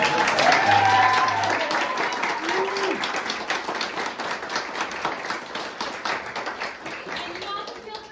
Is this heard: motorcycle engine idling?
no